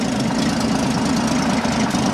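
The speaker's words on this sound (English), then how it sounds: "As you guys can see, the engine is pretty smooth." A 1950 Chevrolet engine, a 6-volt car converted to 12 volts, idles smoothly and steadily close by, with a continuous low rumble and no voices.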